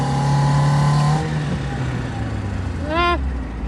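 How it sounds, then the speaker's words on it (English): Engine of a cheap Mazda Miata race car revs and pulls hard, its pitch dropping as it shifts up through the gears, close and loud, with a brief rising whine near the end. "All right, first gear. Foot to the floor. Second gear."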